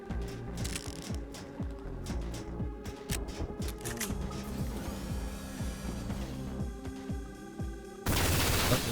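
Rapid bursts of weapon fire in the retro first-person shooter Ion Fury, dense repeated shots with clanking game effects, ending in a loud wash of noise.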